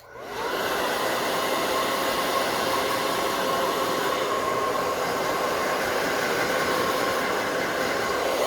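Hair dryer blowing steadily on a wet mannequin's hair, a loud continuous whooshing roar that starts abruptly and holds unchanged, with no voices.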